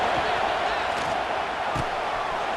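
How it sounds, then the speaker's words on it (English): Stadium crowd in College Football 26 roars loudly and steadily throughout, a dense continuous wall of cheering with a few brief thumps, on a third-down play in the red zone. "this crowd is at fever pitch"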